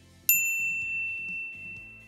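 A single bright notification ding rings out sharply and then lingers as a clear sustained tone, sitting over a low soundtrack bed.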